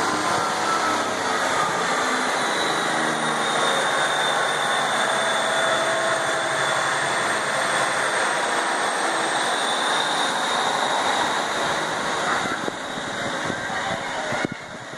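East Midlands class 158 diesel unit 158773 pulls away from platform 2 at Wymondham on a service to Manchester Piccadilly, a loud, sustained engine roar with a steady whine and rumble, close by and drowning out everything else.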